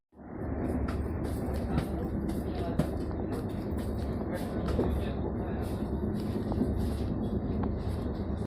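Sabarmati Express train running on the rails, a steady loud rumble of wheels and carriage with repeated sharp clicks and rattles from the track throughout.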